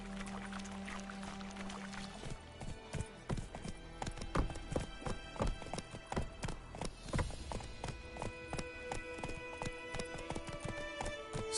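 The horse Roach trotting in The Witcher video game, rhythmic clip-clop hoofbeats that start after a couple of seconds and continue steadily, with game ambience and a soft whinny behind.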